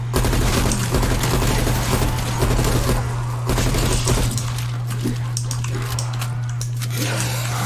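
Dense, rapid gunfire from Call of Duty on the Die Maschine map, with a continuous roar of overlapping shots and bursts running loud and close throughout over a steady low hum.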